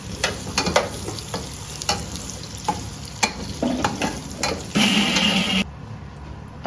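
Figs fry in ghee in a pan while being stirred for flaxseed pinni, a steady close sizzle punctuated by sharp ticks and scrapes of the spoon, with a louder hiss near the end before it cuts off.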